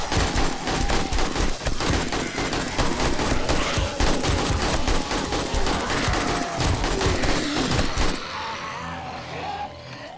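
Dense, rapid gunfire from a horde-night fight in the video game 7 Days to Die (Alpha 17) rattles continuously for about eight seconds and then stops abruptly, leaving quieter background ambience.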